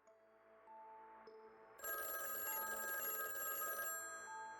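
A telephone rings with a bright, repeating electronic ringtone, starting softly and then swelling louder midway before easing, clean and alone with no voices.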